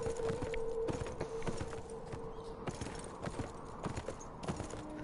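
Horse hooves clip-clop in a video game, a steady run of sharp, evenly spaced hoof strikes at moderate loudness over a constant background tone, with no talk.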